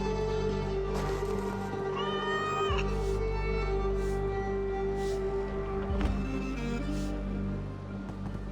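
Several cats meow in a video game scene, repeated wavering cries over a steady tonal hum and background ambience, one after another across the stretch.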